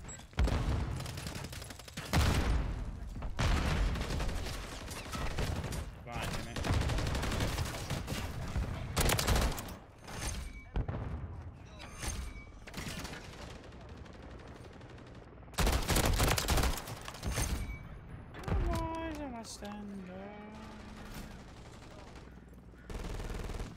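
Light machine gun fire in Call of Duty Modern Warfare 3 PC gameplay, repeated loud, close sustained bursts separated by brief pauses, with game effects and talk between volleys.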